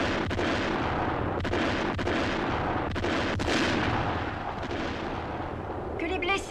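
Heavy artillery barrage in a 1971 Yugoslav war film: a loud, continuous rumble of booming blasts with repeated sharp detonations, dense and close for several seconds.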